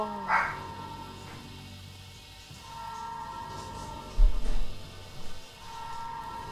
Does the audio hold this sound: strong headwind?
no